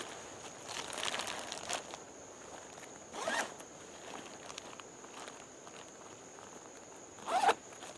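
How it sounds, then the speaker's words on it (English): Empty Ziploc plastic bags are handled close by with soft, faint crinkling and rustling. A sharper zip-like rasp comes near the end, and no one talks. "And then I've got some empty Ziploc bags here."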